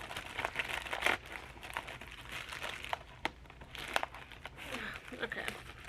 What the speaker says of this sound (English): I'm gonna have to rip it on the side.